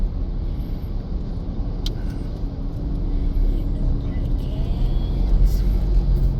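Steady road traffic rumbles on a busy Philippine highway between Calamba and Real, Quezon, a continuous low wash of passing cars and engines with faint intermittent higher sounds, fairly loud and without clear talk.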